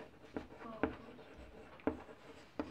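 Chalk or marker strokes on a board during a class 8 maths lesson, a few faint, sharp taps and short scrapes spaced out at an irregular pace in a quiet room.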